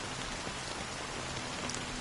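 Rain falls in a cutscene from the video game Honkai: Star Rail, a dense, steady downpour patter that stays constant and fairly loud with no voices over it.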